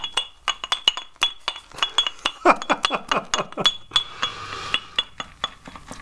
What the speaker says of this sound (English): Now this is one of the reasons I am not a big fan of bowls and stuff, is you hear this clanking